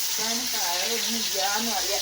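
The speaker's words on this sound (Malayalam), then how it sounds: "ഓയിലിലേക്ക് ഇതാ നമ്മൾ ഉരുളൻകിഴങ്ങാണ് കേട്ടോ പൊരിക്കാനും വേണ്ടിയിട്ട് ഇട്ട് കൊടുക്കുന്നത്" Potatoes frying in coconut oil in a cooker give a steady hiss and sizzle throughout, while someone talks over it.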